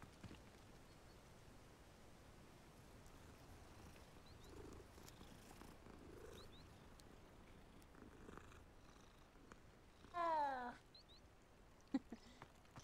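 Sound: cat purring while being petted, from video game Hogwarts Legacy

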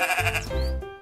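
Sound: goat bleating

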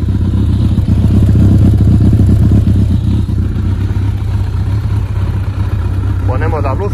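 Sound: Kawasaki ZRX 1200 S motorcycle engine idling

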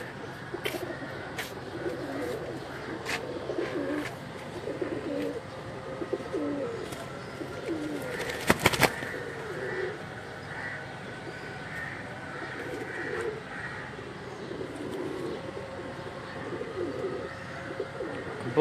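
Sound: pigeons cooing

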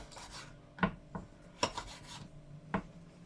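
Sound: knife cutting a vanilla pod into small pieces

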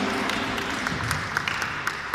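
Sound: audience applause at a dance show

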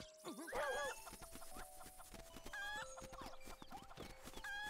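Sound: chicken clucking in Zelda Link's Awakening video game

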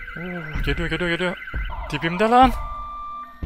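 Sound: alarm siren sounding in Siren Head video game

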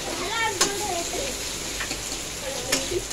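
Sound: onion frying in oil with cumin tempering

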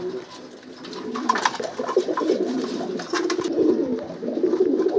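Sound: silver pigeons cooing in a loft

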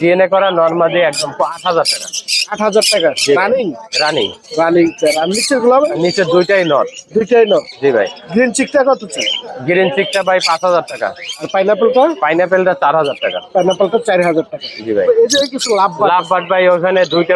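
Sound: lovebirds calling at Mirpur 1 bird market

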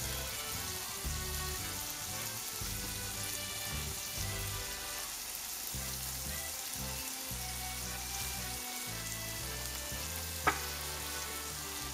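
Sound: scallops searing in a frying pan

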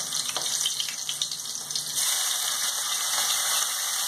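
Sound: onion frying in a pan

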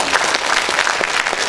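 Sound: audience applause

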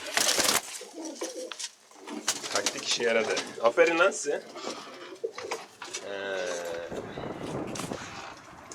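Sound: pigeon cooing

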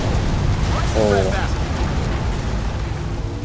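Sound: explosion in the video game Halo Reach

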